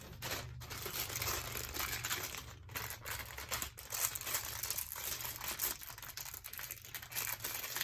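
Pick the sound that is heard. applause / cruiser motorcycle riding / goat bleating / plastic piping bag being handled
plastic piping bag being handled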